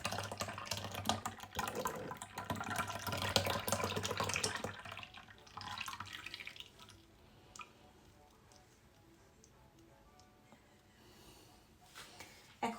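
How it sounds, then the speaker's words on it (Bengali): Sweetened yogurt mixture for mishti doi poured from a height to build froth, a splashy liquid stream loud for the first few seconds, then thinning to faint trickles and drips. "ভালো করে মিক্সড করে নেওয়ার পরে আমি এটা উপর থেকে ঢেলে দিব যাতে ফেনা ফেনা হয়"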